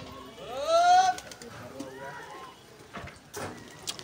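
Pigeons at a pigeon-flying event in Lucknow coo and flutter close by, with a few soft calls and rustling; a person speaks briefly in the background.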